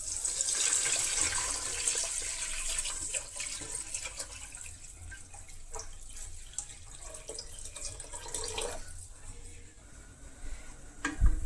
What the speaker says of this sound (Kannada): ಇವಾಗ ನಾನು ಏನು ಹುಣಸೆಹಣ್ಣು ನೀರನ್ನ ಮಾಡಿಟ್ಕೊಂಡಿದ್ನೋ ಅದನ್ನ ಇದಕ್ಕೆ ಹಾಕ್ತೀನಿ